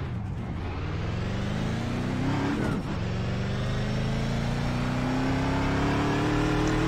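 Race truck engine in iRacing at Charlotte, a loud steady drone rising in pitch as it accelerates, with a brief dip partway through, continuous and close throughout with no talk.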